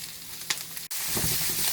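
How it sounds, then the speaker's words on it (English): Brussels sprouts sauté in melting butter, a close steady sizzle with a brief clack and a momentary drop partway through before the frying resumes louder, with no voices. "I'm just going to let that melt in to help saute those Brussels sprouts."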